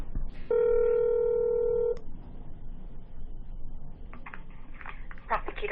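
A steady telephone tone sounds for over a second, followed by quieter clicks and handset noises while a call is placed to a county prosecutor's office in Monroe County, Ohio.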